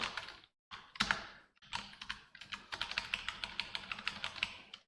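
A line of Python code is typed on a computer keyboard: a few isolated key clicks with short pauses, then a quick, even run of crisp keystrokes, close and quiet.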